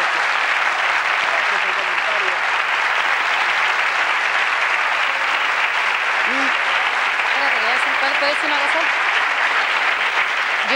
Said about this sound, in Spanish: Vamos a aplaudir fuertemente, María, por favor.